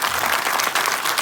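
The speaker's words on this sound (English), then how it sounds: "A round of applause, please." An audience at a hip-hop anniversary event breaks into brief, dense applause, a steady patter of many hands clapping at once with no voices over it.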